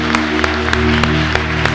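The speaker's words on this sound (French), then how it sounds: "Est-ce que quelqu'un peut d'abord applaudir très fort pour Jésus?" Loud, steady applause from a seminar congregation cheering for Jesus, dense clapping throughout with a sustained low musical drone underneath and sharp louder peaks at regular beats.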